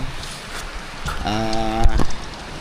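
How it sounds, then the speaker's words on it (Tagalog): Steady rain pouring down outdoors, a constant broadband hiss with a voice briefly speaking over it midway. "So, ayan, bumuhos ulit yung ulan."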